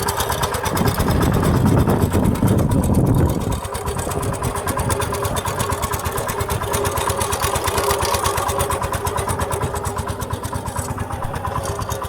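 A power tiller engine runs close by, louder and rougher for the first few seconds, then settling into a steady, rapid chugging idle that continues throughout with little talk.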